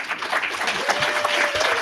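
Sustained applause from a live audience closing a comedy podcast show in Harrisburg, Pennsylvania; dense, steady clapping fills the whole stretch with a faint tone running beneath it.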